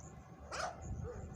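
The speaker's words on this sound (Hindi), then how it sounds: "ये कोई कुत्ते का बच्चा है" A puppy gives one sharp, short bark at close range outdoors in the dark, standing out over a steady background hum, with a faint whimpering trail afterward.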